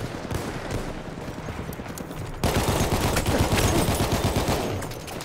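Battlefield 1 gunfire rattles in rapid, dense bursts that grow louder midway, with a continuous clatter of shots close at hand and no clear talk over it.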